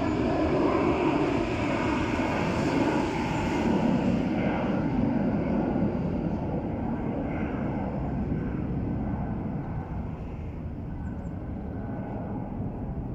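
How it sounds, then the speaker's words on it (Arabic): An airplane takes off close to an airport in Bosnia, a loud continuous jet roar that holds steady and slowly fades as it climbs away. "خلي الطيارة تروح بما إنه إحنا قراب عن المطار."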